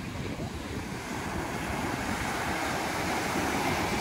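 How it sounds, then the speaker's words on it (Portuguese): Ocean waves wash steadily onto a seashore, a continuous broad roar of surf mixed with wind buffeting the microphone, loud and constant with no voices. "Olha que mar maravilhoso que nós temos aqui"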